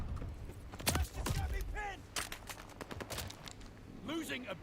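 Scattered gunfire in Call of Duty Vanguard multiplayer, a handful of sharp shots and short bursts spread unevenly through the stretch, with voices calling out over the fighting.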